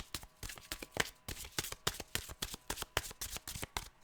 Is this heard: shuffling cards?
yes